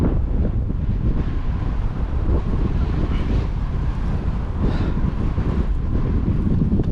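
Strong wind buffets the microphone outdoors at a bayou fishing spot, a loud continuous low rumble with gusty swells and no break, with no talking.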